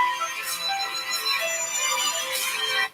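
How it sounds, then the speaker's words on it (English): A mobile phone ringtone plays a steady electronic melody, moderately loud and alone, stopping abruptly near the end. "I'm sorry about my phone ringing."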